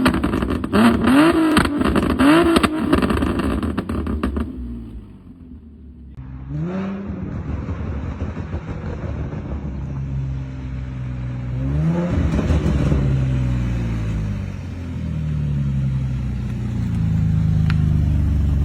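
Tuned Infiniti G37 exhaust revving hard up close, then dropping into a burbling idle between repeated throttle blips, with loud crackling pops throughout.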